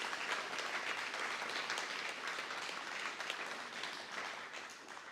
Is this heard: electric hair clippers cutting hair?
no